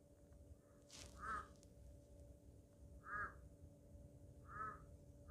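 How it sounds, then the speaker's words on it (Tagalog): A crow caws three times at regular intervals, faint and somewhat distant, over a low steady background hum. "Yung uwak ang ingay."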